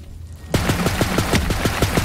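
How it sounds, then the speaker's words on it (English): Rapid automatic gunfire erupts in Borderlands 3, pummelling a janky fireworks truck, a loud, evenly spaced burst of shots starting abruptly after a quiet moment and continuing without pause. "You gotta pummel that truck with bullets."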